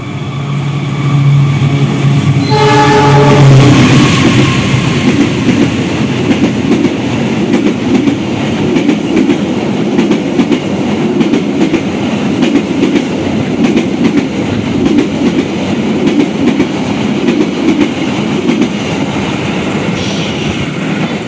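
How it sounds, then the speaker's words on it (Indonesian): The Taksaka passenger train rumbles past at close range in Indonesia with a long, loud roar and rhythmic clattering of wheels on rails, preceded by a brief horn blast. "Kita akan mengalami papasan jumpa dengan kereta api Taksaka dari Yogyakarta ke Gambir."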